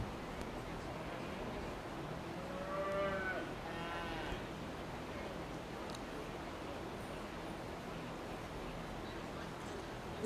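Cattle at a 4-H/FFA beef heifer show give a couple of moderately close moos in a noisy indoor show barn, with steady crowd murmur throughout.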